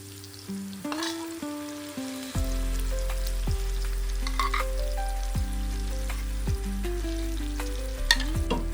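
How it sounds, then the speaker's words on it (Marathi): Oysters stirred into roasted masala in oil for an Agri-style kalve sukka, a close sizzle with repeated stirring scrapes over a loud, steady low hum that starts a couple of seconds in. "आता मी यात टाकणार आहे कालवं"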